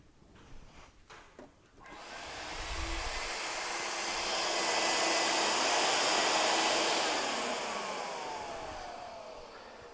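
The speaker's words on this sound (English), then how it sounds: "you should hear the motor spinning" An ASL 110V LPAP auto-pulsing vacuum motor is switched on after a few faint clicks and handling noises. Its whine rises into a steady, loud whir, holds, then slowly starts to fade.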